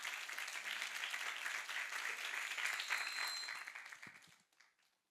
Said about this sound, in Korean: 먼저 이 자리에 우리를 불러주신 우리 하나님께 영광의 박수 함께 올려드리시겠습니다.